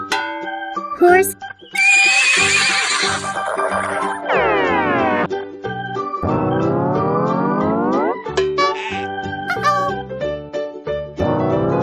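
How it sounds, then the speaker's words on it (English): A horse whinnies and neighs repeatedly in loud, quavering bursts with falling pitch, set against a bouncy children's music track. "Horse."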